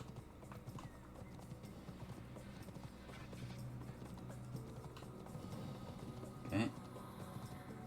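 Steady rhythmic clip-clop of horse hooves in a video game set in the 12th century, quiet and continuous, with a brief louder knock near the end.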